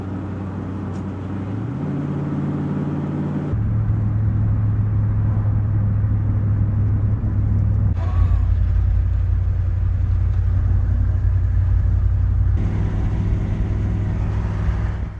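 An old beater car drives along a road, its engine and tyres making a steady, loud rumble heard from inside the cabin, with shifts in tone as it changes pace.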